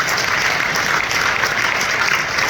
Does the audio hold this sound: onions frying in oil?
no